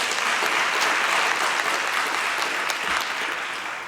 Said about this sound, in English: Can you please maybe give them a warm round of applause?